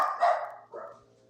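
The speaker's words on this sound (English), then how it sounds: "I forgot my dog was sleeping on stage with a microphone" A dog lying on a stage near a live microphone lets out two sharp barks, close and clear, the second shorter and softer, followed by a faint electrical hum.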